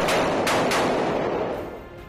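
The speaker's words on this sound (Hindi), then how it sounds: "तड़के सुबह की गई गोलीबारी की आवाज से पूरा इलाका थर्रा उठता है" Gunfire in a staged reconstruction of an Indian Army surgical strike at dawn, with smoke bombs used. A few sharp bursts ring out close at the start, then fade into a rumbling, reverberant wash with no voices.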